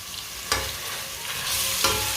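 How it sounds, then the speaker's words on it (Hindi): Crushed garlic frying in a pan with lightly browned onions for an aloo palak dish, a steady close sizzle with two sharp scrape-and-stir bursts from the spoon. "2 मिनट के लिए पका लेंगे लहसुन को"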